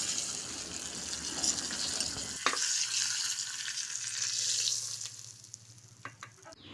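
Curry leaf and asafoetida tempering sizzles hard and loud, then is poured into chickpea sundal, and the crackle drops off sharply partway through into a softer, fading hiss.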